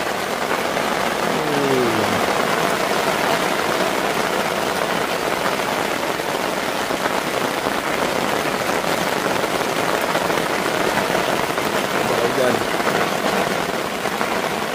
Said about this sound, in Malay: Hujan lebat. Kau lebat hujan.